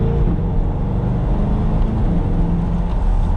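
A 2020 C8 Corvette pulls hard in second gear, a loud, deep, continuous engine roar that stays heavy and steady throughout with no talking over it.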